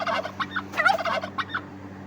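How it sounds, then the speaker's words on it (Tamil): A turkey gobbles in a short burst of rapid warbling calls, close and clear, in a children's cartoon of bird sounds. "டர்க்கி வான்கோழி"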